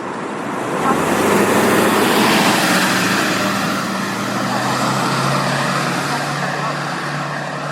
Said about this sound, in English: People crossing the street, cars moving behind me, trucks moving behind me.